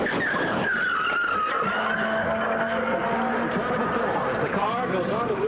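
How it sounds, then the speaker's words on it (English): A NASCAR stock car runs a qualifying lap at Daytona, with a continuous loud engine roar and shifting pitch as it speeds around the track, while a commentator talks over it. "here is Cale's second lap"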